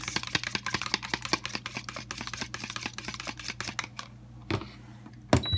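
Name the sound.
whisking eggs with milk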